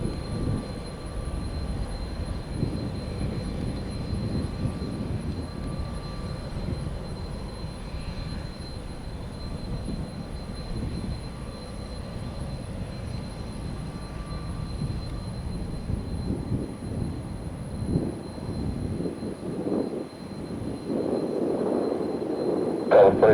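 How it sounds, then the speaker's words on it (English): Airplane engines pass at a distance at Tampa airport as a low, muffled roar, with crosswind carrying sound away, rising and falling with gusts, swelling louder near the end. "planes are going to sound quiet down here with the wind from our right to left."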